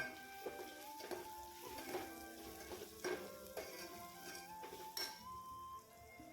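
Spice masala frying in a pan on a home stove gives a soft steady sizzle, with a few light clinks of a utensil against the pan and some stirring scrapes, close and quiet.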